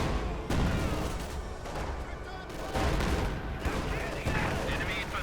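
Dense battlefield gunfire in Company of Heroes 2, with rapid machine-gun bursts and booms rolling on steadily at moderate loudness beneath a commentator's voice.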